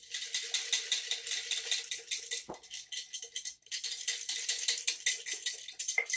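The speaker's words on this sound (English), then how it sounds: "then I whisk it" A whisk beats yogurt starter into milk in a container, making rapid, rhythmic rattling clicks that continue steadily close by with one brief pause.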